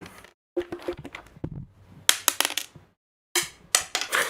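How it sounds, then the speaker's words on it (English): Dice and backgammon pieces thrown and clattering, several sharp bursts of rattling clicks with short pauses between, close and fairly loud, with no talking. "I could throw some dice"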